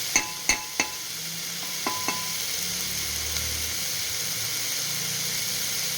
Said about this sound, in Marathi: सगळं पाच मिनटं एक चांगलं परतून घ्यायचं